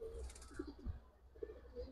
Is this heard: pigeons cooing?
yes